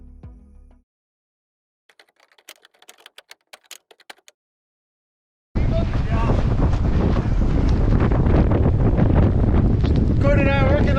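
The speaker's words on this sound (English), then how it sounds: "it is so windy out here we cannot see a thing" Strong wind buffets a microphone outdoors at a rally camp, a loud continuous roar that cuts in after a near-silent stretch with a few faint ticks, a brief sound at the very start.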